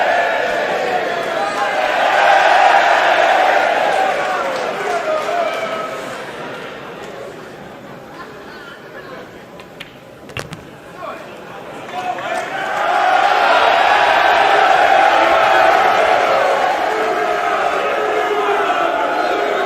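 Spectators at a Mosconi Cup pool match roar in two broad, loud swells of cheering and chatter, the noise dipping in the middle before rising again.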